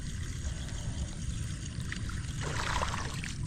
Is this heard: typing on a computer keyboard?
no